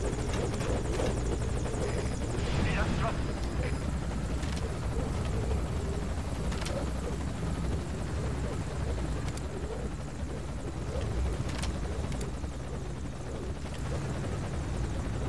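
A helicopter comes in to land in the video game Metal Gear Solid Ground Zeroes, a loud constant rotor roar and engine drone filling the whole stretch without letting up.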